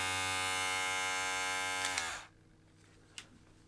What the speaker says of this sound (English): Not bad for the sound of the motor inside